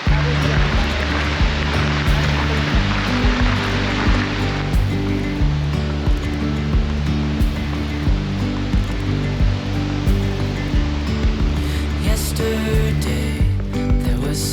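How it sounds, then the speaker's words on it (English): Waterfall in the Letchworth State Park gorge along the Gorge Trail, a steady, loud broadband rush of falling water that fills the whole clip without pause. "already I see a gorgeous view of a waterfall"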